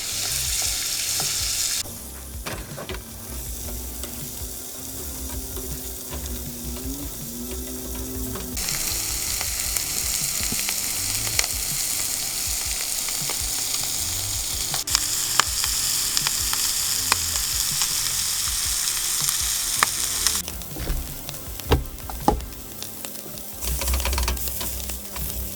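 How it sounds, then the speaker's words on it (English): Steak, shrimp and potatoes fry on a Camp Chef Everest two-burner camp stove, a loud, constant sizzle broken by quick clicking stirs and scraping, with no talking. "Got some steak, shrimp, and potatoes going."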